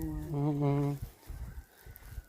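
A bird used in a bird-flying activity gives a single drawn-out, mellow call, followed by quieter rustling and faint background noise.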